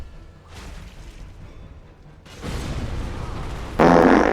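A cartoonish fart sound effect from a video game bursts out near the end as a loud, broad, noisy blast, following quieter rumbling game noise and a louder stretch of action sounds.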